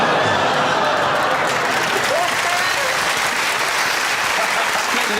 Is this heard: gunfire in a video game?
no